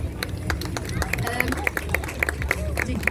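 Applause from an audience at a children's Suzuki school music performance with cellists, a burst of quick scattered clapping with crowd murmur underneath, moderately close and lively.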